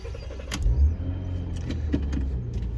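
Rover 75 driving on a test drive after a new track rod was fitted, steady low engine and road rumble from inside the cabin with a few brief rattles and clicks.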